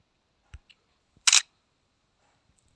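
A phone camera shutter snaps once, a short crisp click heard clearly in an otherwise quiet room, preceded by a few faint taps and small handling noises.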